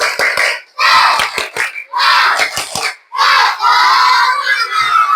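A class of fourth-grade children performs a rhythmic clapping chant in the classroom, sharp claps in quick patterns alternating with loud shouted responses, close and energetic.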